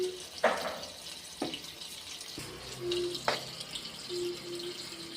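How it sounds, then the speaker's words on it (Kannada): Tap water runs and splashes in short bursts as it fills a washing machine, with a few sharp knocks and clatters between the gushes. "ಕೊಳಾಯಿಂದ ಹಂಗೆ ಕಲೆಕ್ಷನ್ ಕೊಟ್ಟು ನೀರು ಹಾಕಬೇಕು"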